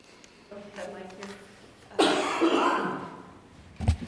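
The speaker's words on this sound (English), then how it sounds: "Sorry for my cough spell there," At a county committee meeting, a sudden burst of harsh, repeated coughing breaks out after some quiet breathing and low voices, followed by another short cough near the end.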